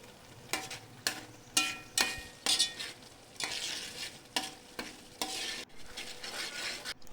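Curry leaves crackling in hot oil for a homestyle fish curry, a steady sizzle punctuated by repeated sharp stirring scrapes roughly every half second.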